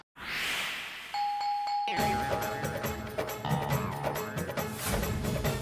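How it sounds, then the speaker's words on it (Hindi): A doorbell rings with a clear electronic tone, then a brief melodic chime sequence follows over soft background sound. "दरवाजा खोलिए, कोई कब से बेल बजा रहा है।"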